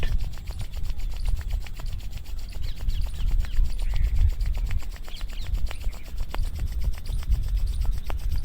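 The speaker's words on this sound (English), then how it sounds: "Rub your both palm, make a heat." Palms rubbing briskly together to build warmth before a relaxation step in a yoga practice, a steady close friction swish running continuously with no talk.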